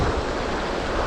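Sea surf breaking along a Brittany shoreline during a sea-fishing outing, a steady broadband wash of waves with some wind, continuous and fairly loud throughout, no voices.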